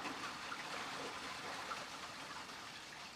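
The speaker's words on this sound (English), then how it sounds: "Okay, a little waterfall there." A small waterfall trickles and splashes steadily, a soft continuous watery hiss heard alone at low volume.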